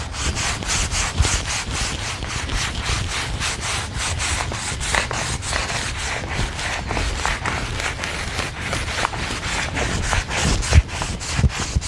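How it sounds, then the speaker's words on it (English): Light hand sanding of a stained wooden staircase with P120 sandpaper: rapid, rhythmic back-and-forth scratching strokes, close and steady, continuing throughout with no talk. "You want to just lightly sand with that 120 P120 sandpaper"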